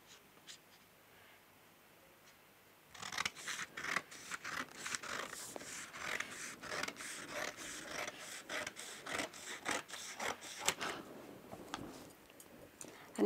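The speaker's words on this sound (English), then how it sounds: "Then start cutting the side seam line" Scissors snip and rasp through fabric along the side seam line of a basic kameez, a steady run of close, crisp cuts after a quiet start, with no talking.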